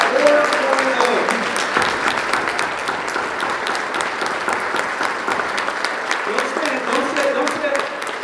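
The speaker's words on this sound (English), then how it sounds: "give them a round of applause" Sustained audience applause fills a hall at a fall sports banquet, steady and dense for the whole stretch, with some crowd voices and cheering mixed in.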